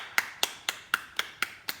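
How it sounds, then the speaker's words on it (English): A ballet class claps for one another: seven crisp, evenly spaced claps in a quick, steady rhythm, fairly soft and heard without speech. "And then we clap for each other."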